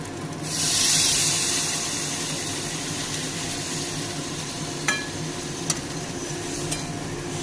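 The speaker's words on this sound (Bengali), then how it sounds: "এখন মাছ দিয়ে দিচ্ছি মশলার ভিতর।" Tangra fish tipped into hot oil and cooked-down spice paste, giving a loud burst of sizzling that settles into a steady frying hiss, with a few sharp clinks of utensils near the end and no talking.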